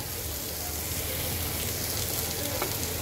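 Spices and vegetables frying in a pan over low heat, with a steady broadband sizzle throughout and no talking.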